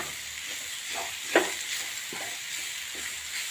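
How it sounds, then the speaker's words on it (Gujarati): Cabbage masala for cabbage parathas sizzles and roasts in a pan, a steady soft frying hiss with a few quiet stirring scrapes and one brief louder scrape, fairly faint and with no talking. "કોબીનો મસાલો મસ્ત મજાનો શેકાઈ તૈયાર થઈ ગયો છે"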